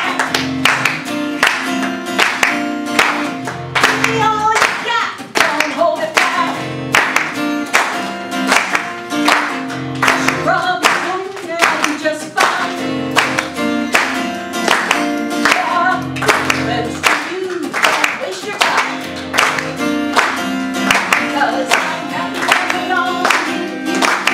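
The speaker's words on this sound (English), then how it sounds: "I invite you to get a little outrageous with me now and clap along" An audience at a district Toastmasters educational session claps along in steady rhythm to a loud, upbeat pop song, the beat-locked claps blending into the music throughout.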